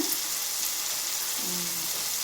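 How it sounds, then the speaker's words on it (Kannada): Garam masala, coriander powder and turmeric frying in hot oil in a pan give a continuous, even sizzling hiss up close, with no talking. "ಈ ರೀತಿ ಇದೆಲ್ಲ ಫ್ರೈ ಮಾಡ್ಕೋಬೇಕ್ರಿ"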